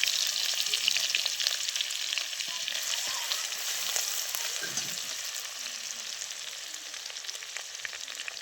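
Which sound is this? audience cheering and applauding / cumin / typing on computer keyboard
cumin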